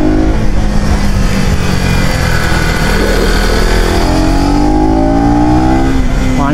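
A 2024 KTM Duke 250 or TVS RTR 310 motorcycle runs on a race track, its engine droning loudly and continuously under heavy wind rush, with the pitch rising and falling as it accelerates.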